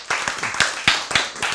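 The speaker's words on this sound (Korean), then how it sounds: "박수." Hand clapping, a handful of sharp, close claps in an irregular rhythm, some sharper than others, fairly loud with little else around them.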